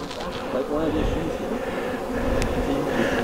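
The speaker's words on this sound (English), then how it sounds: "They're all house bees." Honey bees buzz inside a nuc box during hive work, a close, continuous low hum with a person talking over it.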